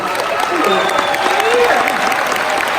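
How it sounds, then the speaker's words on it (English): Convention audience at Star Trek Las Vegas 2019 applauds actress Kate Mulgrew, a dense, steady roar of clapping with cheers mixed in, loud and close throughout, with voices calling out over it. "please stand for a round of applause"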